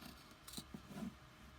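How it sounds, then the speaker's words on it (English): Sewing scissors snipping through zipper ends on an in-the-hoop zipper bag, a few short crisp cuts and rubbing scrapes close up in an otherwise quiet room. "Depending on your scissor, it can be a little hard to get over the zipper."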